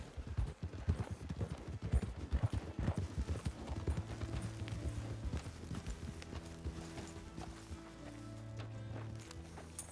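Horses' hooves clop in Red Dead Redemption 2, a quick run of close, sharp hoofbeats that slows and fades into quieter steps as the horses stop, with a low tonal hum underneath.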